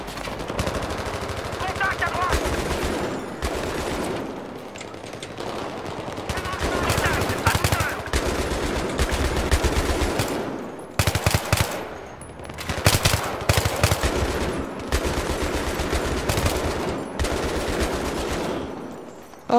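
Bursts of automatic gunfire from the video game Battlefield 3 rattle loudly in rapid volleys separated by short pauses, with players' voices talking over the shooting.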